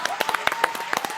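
A TV talk-show host claps for himself in a studio, a short run of about a dozen sharp, close hand claps at a quick, uneven rhythm.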